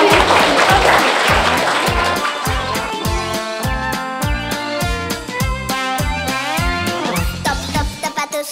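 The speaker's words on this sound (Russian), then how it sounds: "Давайте похлопаем." Children and parents clap at a kindergarten graduation party, a burst of applause at the start that quickly gives way to a loud, bouncy children's song with a thumping beat.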